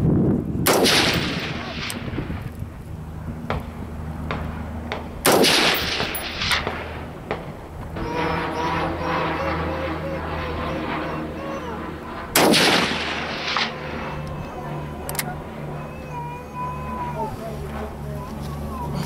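Rifle shots from a Daniel Defense DDM4V11 and a Savage rifle at a clay-bird range, three loud sharp cracks spaced several seconds apart, each trailing off into a long rumbling echo, with faint talk in between.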